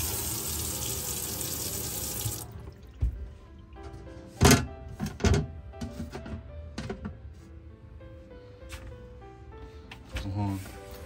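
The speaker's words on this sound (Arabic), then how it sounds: "هون المجرى تبع المطبخ مثل ما شايفين، هي ماء بارد" Cold water gushes from the kitchen sink tap of a 2022 Swedish-built Kabe Royal towed caravan as a steady close hiss for about two seconds, then stops, followed by several hollow thunks and knocks around the sink.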